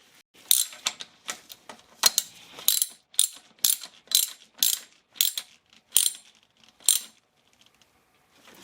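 A ratchet clicks in about a dozen evenly spaced bursts while tightening a 10 millimeter bolt on a 1999 Acura RL engine, close and crisp with quiet gaps between strokes.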